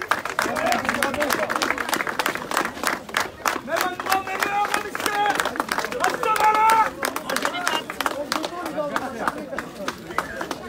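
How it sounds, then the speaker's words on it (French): Prison guards clap in scattered, uneven bursts as mobile gendarmes leave during a protest, with crowd voices and chatter heard throughout over the applause. "De maigres applaudissements de la part des surveillants."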